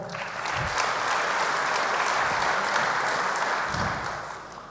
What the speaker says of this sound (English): You are now allowed to cheer.